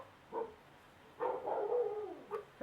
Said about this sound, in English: There go the dogs, very sorry.